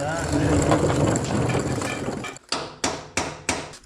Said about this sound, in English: How about a hammer and a punch maybe? That can tap it forward.